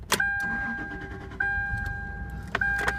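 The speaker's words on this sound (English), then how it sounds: "we'll go ahead here and start it up." A 2000 Toyota 4Runner 4WD with 210,000 miles being started up close, with clicks from the ignition and dash chimes, then the engine cranking and catching into a low idle.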